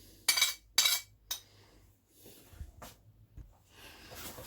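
Spoon clinking against a bowl as chili flakes, mixed masala, coriander powder, whole cumin and salt are stirred into a potato cutlet mixture, a few sharp metallic clinks up close and then softer scraping.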